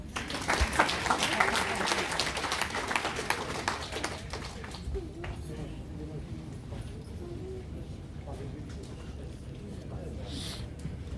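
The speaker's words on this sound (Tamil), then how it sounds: "இந்த ஆச்சரியத்துக்கெல்லாம் நீங்க கைத்தட்டணும்." Audience applause at a stage ceremony honouring a Tamil teacher, loud and dense for the first few seconds, then thinning into scattered clapping and murmuring voices.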